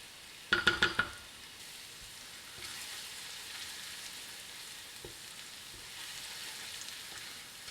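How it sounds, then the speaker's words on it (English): Dried chili flakes hit hot oil in a pan for puttanesca sauce: a brief cluster of crackles, then a faint, even sizzle that hisses quietly on. "Add in the dried chili flakes and cook them for a minute only."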